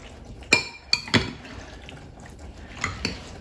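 Drained canned corn stirred into a mixture, a few sharp clinks and scrapes of a utensil against the bowl early on, then softer wet stirring and two lighter taps near the end.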